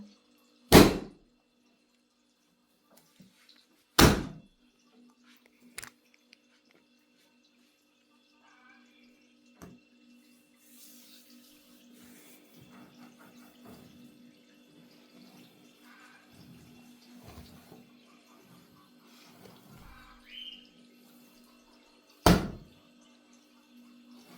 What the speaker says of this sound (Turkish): Bana vurur gibi vuruyor hamura.